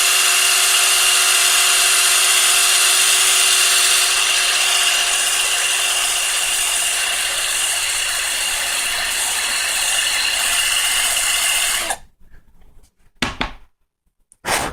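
Small power drill boring into the plastic legs of a Gundam Zaku model kit, a steady close-up whir running continuously for about twelve seconds, then stopping with a few brief faint handling noises.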